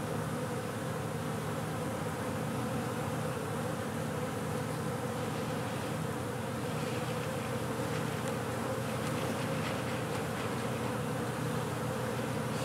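A dense, continuous buzz of many honeybees in a hive building comb, a steady hum with no pauses and no voices.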